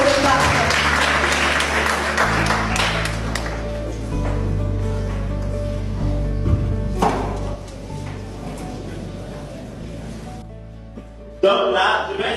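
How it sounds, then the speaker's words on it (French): An audience at a Niamey computing-day event claps in a dense burst that thins out over several seconds, while a loudspeaker hum and some background murmur run beneath. "Je vous prie d'applaudir M. Toké Parfait."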